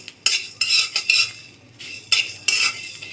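Dry spices toasting in a wok over medium-low heat for a sour-sweet-spicy raw mango sweet, stirred with a metal spatula in a series of scraping, clinking strokes, close and fairly quiet, with no voices.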